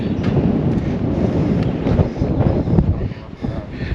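Strong wind gusts buffet the microphone high up on an abandoned railway trestle, a continuous rough roar that rises and falls in waves.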